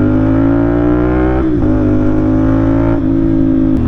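A 2024 CF Moto NK450 motorcycle engine revs loud and close, holding a strong, steady harmonic drone that dips briefly twice as the throttle eases and picks back up.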